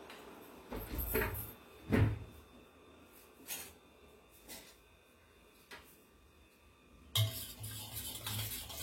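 A spoon mixes semolina and sour yogurt in a bowl, giving scattered soft scrapes and several sharp clinks against the rim, separated by quiet gaps, close and fairly faint.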